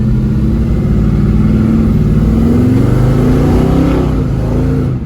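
A 1968 Camaro Protouring with dual exhaust accelerates steadily from inside the cabin, a loud continuous engine drone with rising revs throughout, no talking.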